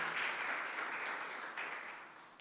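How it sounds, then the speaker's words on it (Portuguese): Church congregation applauding the Lord during a worship service, a soft, distant wash of clapping that fades slightly with one brief sharper clap near the end. "Vamos aplaudir o Senhor Jesus?"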